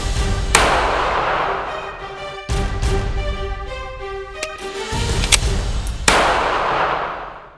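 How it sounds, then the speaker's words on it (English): A Taurus G3 9mm pistol fired at an outdoor range: a handful of sharp, loud reports spaced a second or two apart, each followed by ringing metallic decay and tonal resonance, with no speech. "we finally got the Taurus G3 out at the range to put some rounds through this"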